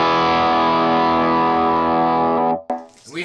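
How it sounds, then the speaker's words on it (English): An electric guitar played through an overdrive pedal rings out as one sustained, thick distorted chord for about two and a half seconds, loud and steady, then cuts off abruptly and is followed by a brief, quieter rising tail. "All right, now it's overdrive."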